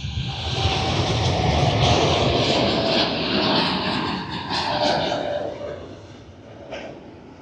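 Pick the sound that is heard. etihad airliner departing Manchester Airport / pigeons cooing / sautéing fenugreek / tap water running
etihad airliner departing Manchester Airport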